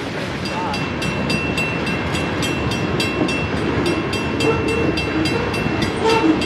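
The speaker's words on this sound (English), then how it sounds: "It's a coal train." Coal train rolling past on a railroad line, a steady loud rumble with rhythmic clicking of wheels over rail joints throughout, a faint horn tone held above, continuous and close.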